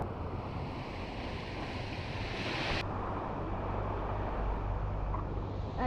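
Surf washes steadily onto the empty beach at Maya Bay, a continuous broad rush of waves mixed with wind buffeting the microphone and no voices.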